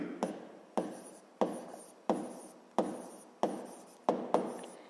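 Handwriting a physics problem: a pen or chalk makes seven or so short, evenly spaced scratching strokes, each fading quickly, quiet and close with no talking.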